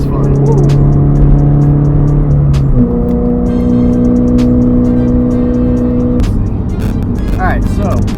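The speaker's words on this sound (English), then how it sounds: "You could definitely hear the exhaust, but did not have that low droning hum" A Subaru BRZ fitted with an AWE Tuning catback exhaust pulls hard under acceleration, its steady engine note climbing and shifting through gears, loud and close from inside the car, with a voice speaking over it.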